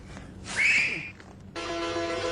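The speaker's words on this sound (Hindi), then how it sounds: "वो बस मेरी सीटी का इंतजार कर रही है।" A person whistles a single rising-and-falling call in a domestic setting, brief and fairly loud, followed by a steady tonal hum.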